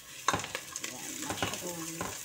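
Onion and mushroom stir-frying in a pan, a soft sizzle broken by quick scrapes and stirs of a utensil against the metal.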